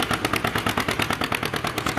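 A Farmall 460 tractor engine catches and fires in a rapid, loud, regular stream of heavy chugging pulses, close by, with no talking.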